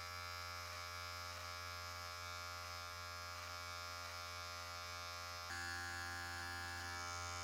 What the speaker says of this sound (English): Start by running the clipper from top to bottom, removing any unruly or misdirected hairs